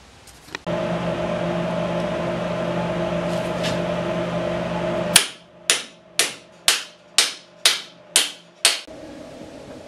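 Work on a Nuffield steering box, fitting new bushes: a steady machine hum runs first, then stops, followed by eight loud, evenly spaced metallic hammer blows.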